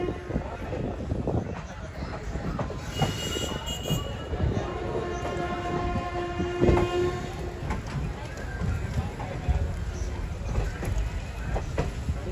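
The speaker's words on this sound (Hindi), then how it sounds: "ट्रेन" Train running on rails during a journey toward Ghazipur, a continuous rumbling clatter with metallic screeching tones and occasional thumps, heard from close by with people talking over it throughout.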